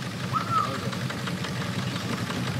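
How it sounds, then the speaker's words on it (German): A boat engine idles steadily at moderate distance, a low continuous rumble with a faint tonal whine briefly rising above it. "Franz, mach mal Motor aus."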